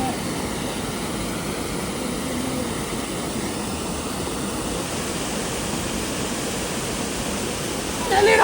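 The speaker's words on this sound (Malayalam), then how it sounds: "ആ വെള്ളച്ചാട്ടം കണ്ടോ? അതിനകത്തുള്ള ബബിൾസ് കണ്ടോ?" Crystal Falls waterfall in Sault Ste. Marie pours with a constant broadband roar, steady and loud throughout with no break.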